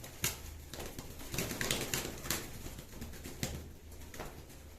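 Pigeons kept for sale at Baruipur coo softly and fairly close, low murmuring calls mixed with sharp clicks and taps scattered throughout.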